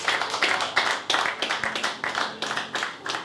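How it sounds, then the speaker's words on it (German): A small group claps at a boxing weigh-in in Hamburg for a former MMA champion, individual claps distinct and rhythmic, moderately near, fairly quiet overall. "Großen Applaus für Timur"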